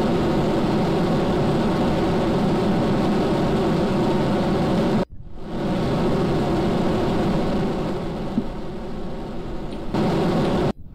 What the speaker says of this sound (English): That's just extremely loud. It's that specific engine, even.